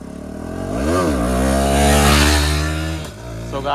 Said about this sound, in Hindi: सो गाइस पृथ्वी 250 में व्हीली मार रहा है